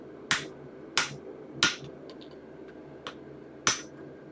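Hammer blows on an axe head being prepared for a weld, five sharp metallic strikes at uneven intervals with a couple of faint taps between, close and ringing over a low background hum.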